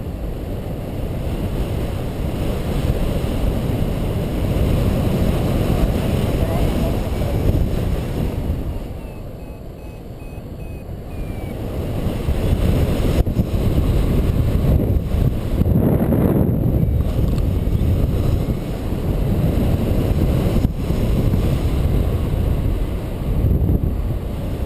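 Strong wind buffets the microphone during an aircraft landing, a loud continuous roaring rumble that eases briefly midway and then surges back.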